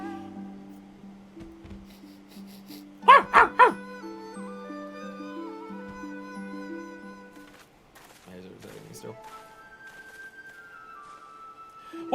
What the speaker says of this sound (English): We came as soon as we heard the barking.